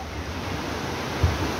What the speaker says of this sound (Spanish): de arroyo, de río